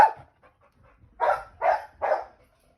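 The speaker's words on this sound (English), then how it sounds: "And there comes the dog." A dog barks three times in quick succession at moderate distance outdoors on a clear autumn day, with a single softer yelp at the very start and quiet ambient noise between barks.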